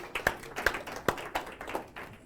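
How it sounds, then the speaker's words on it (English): Small group clapping for presenters at a sales training session, a short scattering of uneven, individual hand claps rather than a full ovation, fairly close. "Round of applause for these guys."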